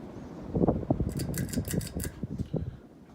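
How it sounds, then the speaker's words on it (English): Fasco Charleston 52-inch ceiling fan running, a soft mechanical whir with light ticking and faint rhythmic pulsing close by, no voices. "the fan runs real nice"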